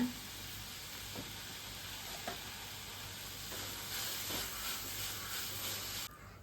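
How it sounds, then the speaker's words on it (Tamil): Onions, red chillies and coriander sauté in a pan for onion chutney, giving a steady soft sizzle with a few faint stirring scrapes, quiet and close, with no one talking. "வெங்காயம் பாதி வதங்கிருச்சுங்க."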